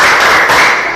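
A sixth-grade class performs the 'tepuk hebat' clapping routine together, a loud burst of many hands clapping close by in one continuous flurry.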